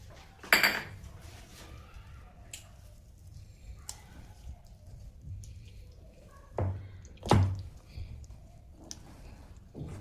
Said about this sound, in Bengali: একটুখানি আমি এর মধ্যে টুটি ফুটি মিশিয়ে দিচ্ছি